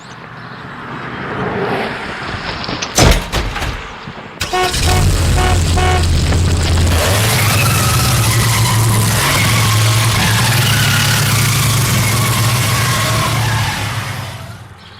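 A race car tears off with a sharp burst, then a loud, steady engine roar with a horn-like tone holds at full volume for several seconds before fading slightly at the end.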